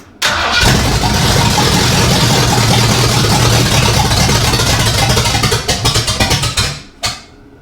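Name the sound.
1964 Ford F100 truck engine trying to start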